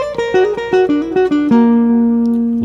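Guitar lick on the whole tone scale, a quick run of single picked notes stepping downward, ending on a sustained note that rings out and fades, with no talking.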